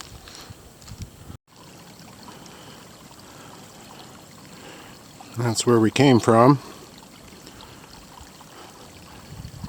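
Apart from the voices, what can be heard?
small creek flowing at a trail stream crossing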